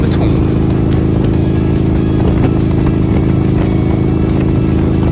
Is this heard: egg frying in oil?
no